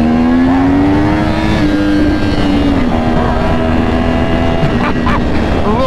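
A stock Yamaha R1 sport motorcycle with a minus-one front sprocket accelerates hard, its engine roaring as the revs climb and the pitch shifts with each gear change, loud and close over wind noise.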